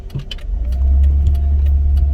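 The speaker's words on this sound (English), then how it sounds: "we're driving along here" A car drives through a quiet residential neighborhood in Hammond, Indiana, with a steady, close engine and road rumble that swells slightly and then holds even throughout, plus faint light rattles.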